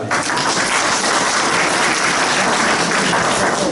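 Enthusiastic applause from an audience at a church youth fellowship gathering, a dense, steady wash of clapping that stays loud throughout.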